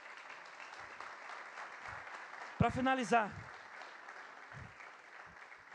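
A church congregation claps softly and steadily in the background while a preacher's amplified voice breaks in briefly midway, the applause faint and continuous.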